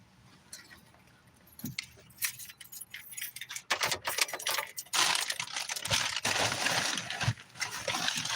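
Keys jangle in bursts, faint and sparse at first, then loud, busy metallic rattling and clinking close by for the second half.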